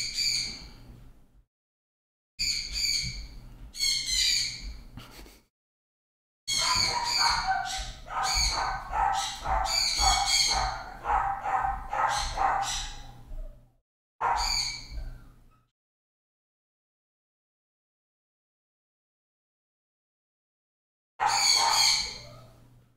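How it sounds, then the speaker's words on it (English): Agitated pet birds squawking loudly in several bursts, close by indoors, with short silent gaps between and a final outburst at the end. "now they're really freaking out."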